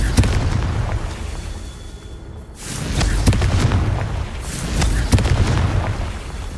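Confringo fire spells burst in Hogwarts Legacy as repeated booming explosions, several heavy blasts with rumbling tails spread across the moment, loud and close with no talking.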